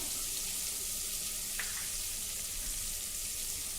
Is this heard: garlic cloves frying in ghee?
yes